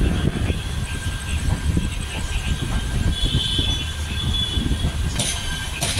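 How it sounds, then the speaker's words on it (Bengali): Shri Jagannath Express running on rails near Kharagpur, a steady, loud rumble of wheels and carriage with rhythmic rail clatter and brief squeals, continuous throughout with no talking. "আমাদের ট্রেন কিন্তু চলে এসছে এখন খড়গপুরে"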